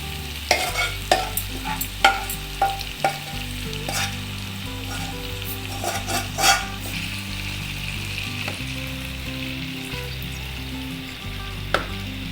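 Meat for bhindi gosht, an okra and mutton curry, stirred in a frying pan, with a steady sizzle and repeated scraping clinks of a spoon. The strokes are gentle and unhurried, with a low hum running underneath.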